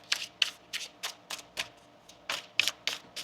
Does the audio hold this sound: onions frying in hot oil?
no